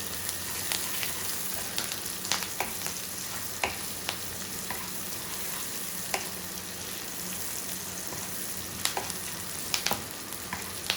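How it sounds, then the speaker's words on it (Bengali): Onions fry in a pan toward light brown, a dense continuous sizzle broken by sharp stirring clicks and scrapes at irregular intervals, close and without speech. "পেঁয়াজটাকে আর একটু হালকা বাদামি করব"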